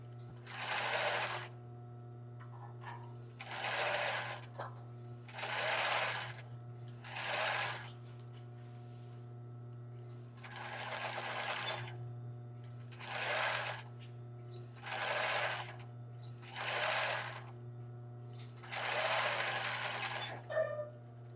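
A domestic sewing machine sews bias binding onto a lace bra in about nine short, quiet bursts of rapid stitching separated by pauses, over a constant low electrical hum.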